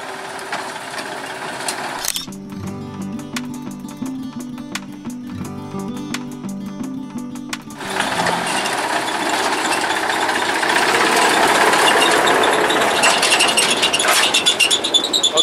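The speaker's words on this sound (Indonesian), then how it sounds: "Lokomotif nomor 7 sudah melintas dan di belakang ini langsung melewati jalan raya Semboro Kencong" Locomotive number 7 on a sugar cane railway passes near the Semboro–Kencong road, a rhythmic mechanical clatter that gives way to a louder, broad rumble as it goes by.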